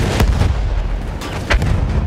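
Enemy gun firing in the Battlefield 1 campaign, several booming shots at irregular intervals, loud and close, with the strongest blast near the end and a rumbling battlefield background throughout.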